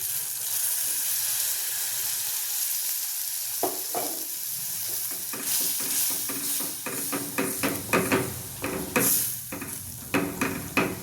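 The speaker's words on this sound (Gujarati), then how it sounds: "હવે આપણે એમાં થોડું ગરમ પાણી લઈશું" Hot water poured into frying Punjabi garam masala and sabzi masala for a mixed vegetable paneer dish, starting as a low steady hiss, then breaking into louder bubbling sizzles with spoon stirring and pan clinks, no voices.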